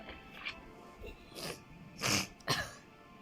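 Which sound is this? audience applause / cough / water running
cough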